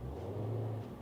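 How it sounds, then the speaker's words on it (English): A Dodge Hellcat 6.2L V8 gives a brief, low throttle blip, a quick rumbling rev heard faintly at close range. "I'm going to whip the throttle a little bit."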